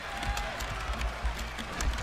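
Capacity wrestling crowd in an arena in Greenville, a steady roar of cheering with scattered clapping and rhythmic thumps, loud and continuous.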